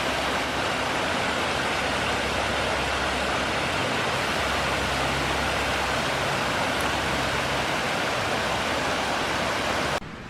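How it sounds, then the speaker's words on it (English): Slade Brook, a toothed stream in muddy woodland, rushes steadily in a dense, unbroken wash of water noise close at hand, loud and constant, with no voices. "We've arrived at Slade Brook."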